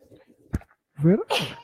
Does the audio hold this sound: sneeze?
yes